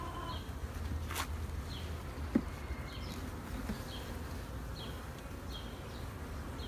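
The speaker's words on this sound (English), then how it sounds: "there's a lot of bees down there" Dense, steady buzzing of many honeybees at an open beehive during an inspection, a continuous close swarm hum with no talk over it.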